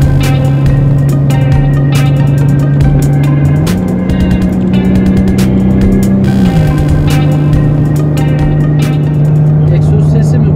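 An Opel Omega 2.5 V6 drones steadily from inside while driving, its exhaust a constant low hum that rises slightly in pitch for a few seconds before settling back, with people talking over it.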